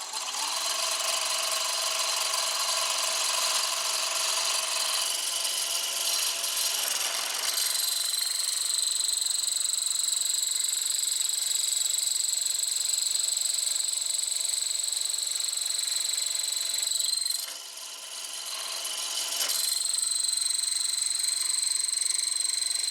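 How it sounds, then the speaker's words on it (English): A Shopsmith Mark 7 hollow chisel mortiser, its chisel freshly sharpened, drives into wood, giving a steady loud high-pitched whine that shifts pitch midway and dips briefly near the end, heard alone without talk. "sharpening did make a difference in the way the hollow chisel went into the wood"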